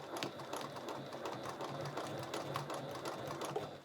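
A sewing machine stitches bias binding around the edge of a fabric bag, giving a steady, continuous mechanical whir with rapid needle clatter that runs unbroken for the whole stretch, close and clear.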